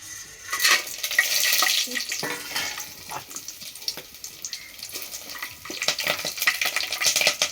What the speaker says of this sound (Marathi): टोपामध्ये तेल तापल्यानंतर आपण पहिल्यांदा खडा मसाला टाकून घ्यायचा